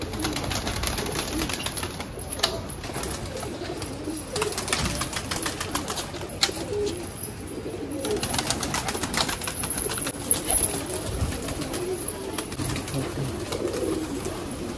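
Pigeons coo steadily throughout a loft of old-breed pigeons, including Pakistani golden birds, a low continuous murmur with occasional brief flutters and scattered background noise.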